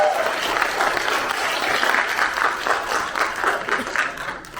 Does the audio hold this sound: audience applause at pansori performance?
yes